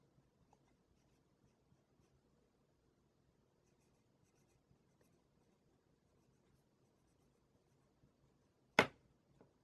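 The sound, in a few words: writing with Paper Mate Flair and Amazon Basics fine liner pens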